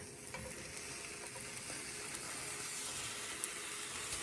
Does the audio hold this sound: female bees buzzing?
no